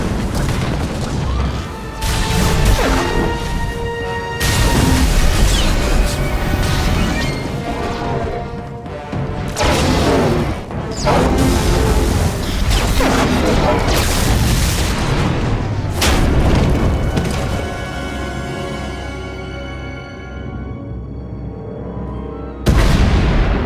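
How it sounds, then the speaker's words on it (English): Explosions shake a tunnel until it collapses in an animated sci-fi scene. Heavy booms and crashing, rumbling debris come in repeated loud bursts for over twenty seconds, layered over a dense background. "We heard explosions, the tunnel collapsed."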